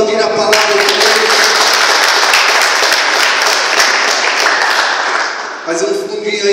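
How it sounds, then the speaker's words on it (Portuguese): A church congregation breaks into loud, sustained applause that fills the room for several seconds, then fades as a voice resumes speaking. "Vamos aplaudir a palavra de Deus."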